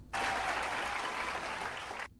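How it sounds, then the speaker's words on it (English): Canned applause sound effect played on a livestream, a short burst of uniform clapping that starts abruptly, holds steady for about two seconds, then cuts off cleanly. "That is some fake applause right there"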